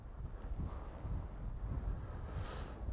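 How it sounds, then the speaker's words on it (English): Biting northerly wind gusts across a reed-fringed lake, a steady low roar and buffeting rumble on the microphone with a faint airy hiss above, no talking. "That is a biting, biting northerly wind."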